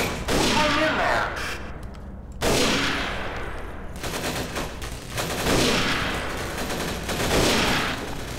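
Heavy bursts of gunfire in a Half-Life 2 mod and thudding impacts repeat in waves, loud and close, with occasional voices under the shooting.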